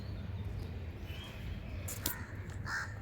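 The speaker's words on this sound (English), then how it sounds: "That crow is chilling on the ground." A crow on the ground gives a couple of short, harsh caws at a moderate distance over a low outdoor background hum.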